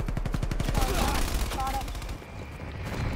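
Rapid video-game gunfire rattles in a fast automatic burst during a multiplayer shootout, dense and loud, followed by more scattered shots and game noise.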